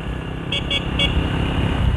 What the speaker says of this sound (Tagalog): O kahit mahina yung busina niya, at least dinig mga ka-take-care sa pa.